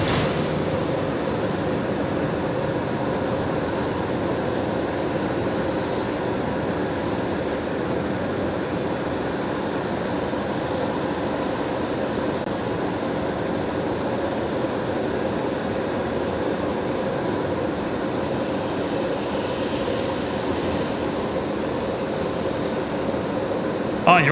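A Qantas airliner arriving from Melbourne at Brisbane Airport gives a steady, broad roar throughout, rumbling and airy at moderate distance, with no clear voices during the pass.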